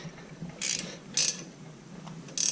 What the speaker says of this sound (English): So let's go ahead and tighten these bolts down.